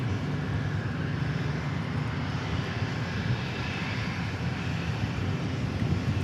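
An airliner at Dallas Love Field airport, likely a Southwest Airlines jet, produces a steady broad engine roar throughout, constant and fairly distant with no talk.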